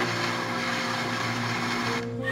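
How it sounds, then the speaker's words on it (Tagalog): A kitchen blender runs steadily, mixing mango tapioca with evaporated milk and condensed milk, a loud continuous whirring motor drone with a slight pitch change near the end. "Takpan tsaka i-on yung blender."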